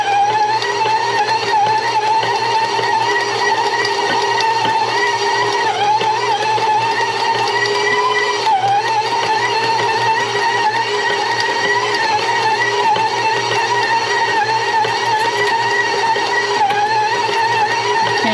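A stand mixer kneading bread dough with a dough hook, a loud, steady motor whine with a constant mechanical hum and slight rhythmic churning that runs unbroken throughout.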